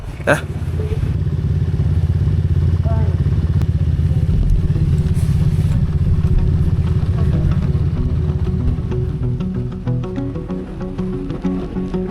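Motor scooters riding out, including a Honda ADV, a Honda PCX and a Yamaha NMAX, a loud sustained engine drone with a low rumble under wind and road noise, with speech heard over it.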